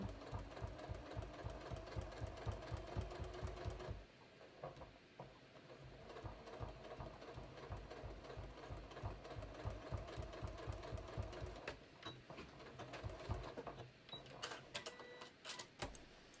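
A sewing machine runs steadily at slow speed while top stitching a shorts waistband and fly, giving a rapid, even needle clatter that pauses briefly, then resumes in shorter bursts near and close.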